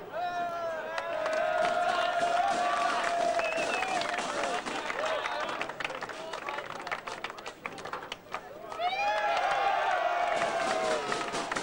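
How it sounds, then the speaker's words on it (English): Sustained crowd applause with cheering for a winning under-19 football team at a grand final presentation, loud and continuous, swelling again near the end, with voices mixed in. "let's give these boys a big round of applause"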